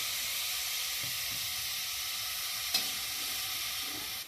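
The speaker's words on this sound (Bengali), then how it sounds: "সব মুলোগুলো দেওয়া হয়ে গেছে এবার একটু নেড়ে করে নিয়ে নুন দিয়ে দিচ্ছি" Chopped white radish being stirred in a pan, a soft continuous sizzle with occasional light utensil clicks and one brief sharp knock, fairly quiet throughout.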